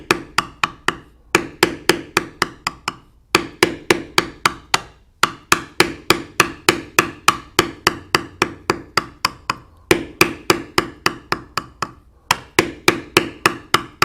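Steady tapping of a mallet on a metal matting tool against tooled leather, dozens of crisp close strikes in quick even runs, broken by brief pauses, no voices.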